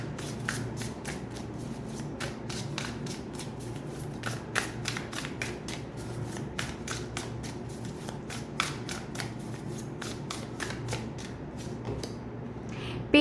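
Tarot cards being shuffled by hand, a steady run of close, crisp riffling flicks and soft card slaps continuing for over ten seconds with no pause.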